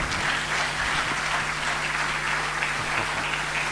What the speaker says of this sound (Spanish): No me aplaudan estas cosas